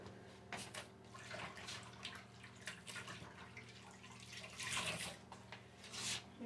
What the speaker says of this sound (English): you want to rinse your rag out.